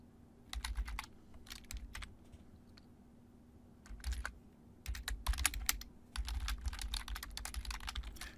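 Bursts of quick, light keystrokes on a computer keyboard while writing code, close and fairly quiet, arriving in irregular clusters separated by short pauses, with a faint steady hum underneath.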